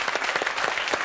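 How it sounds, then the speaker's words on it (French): Brief burst of audience applause, many hands clapping quickly and close, filling the moment without speech. "Je crois qu'on peut l'applaudir"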